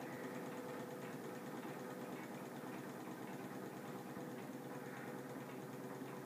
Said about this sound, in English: There it is, the Manfred Stirling engine, made from plans that you can get on the net for free of charge.